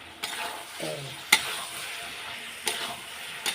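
Potatoes frying in a heavy kadai as they are stirred, a steady sizzle broken by a few sharp metallic scrapes and knocks of the spatula against the pan.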